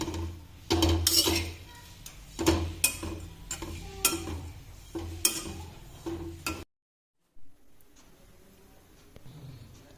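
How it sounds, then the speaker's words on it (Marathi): Dry coconut is roasted in a pan, with close, rhythmic scraping and clinking of a spoon stirring against metal for several seconds, then a sudden break and faint rustling afterward. "असं थोडंसं खोबरं हे भाजून घ्यायचं आहे आपल्याला, म्हणजे याला लाडूला वास लागणार नाही।"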